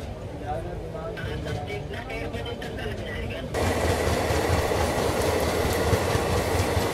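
A Shatabdi Express rumbles along with steady clickety-clack beside a parallel Secunderabad–Agartala train, the wheel and rail noise swelling suddenly louder midway as if a window or door opens, with voices talking underneath.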